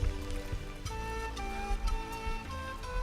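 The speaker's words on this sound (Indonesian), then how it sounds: "Hujan rupanya, Mas." Steady rain patters on leaves and surfaces in the mountain forest of Mount Sibayak in Karo, North Sumatra, a dense continuous hiss with scattered drip ticks, no one speaking.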